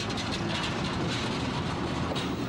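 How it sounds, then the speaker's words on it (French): A diesel locomotive train runs steadily on rails on the return journey. Its broad rumbling noise stays loud and constant throughout, with no talking. "On attelle la locomotive diesel à l'autre extrémité du train pour le voyage retour."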